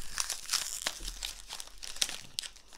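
Crinkly foil wrapper of a Pokémon card pack being handled and torn open, a run of sharp, close crackles and rustles in irregular bursts.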